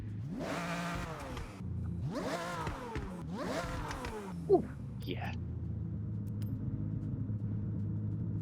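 A 2003 Aston Martin DB7 GT engine revs hard three times in rising, falling sweeps, then settles into a deep steady idle rumble, with a brief exclamation from a voice.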